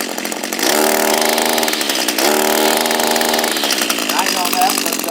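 Echo SRM230 line trimmer engine running below full RPM, a loud buzzing two-stroke drone that surges and dips throughout, close to the microphone.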